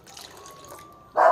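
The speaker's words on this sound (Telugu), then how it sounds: "పాలు పోసేసి చక్కగా కలుపుకుంటే కమ్మగా ఉంటుందండి" Milk poured into semiya kheer made with raisins, cashews and cardamom: a faint hiss runs along until a sudden loud, close splash of liquid bursts in at the end.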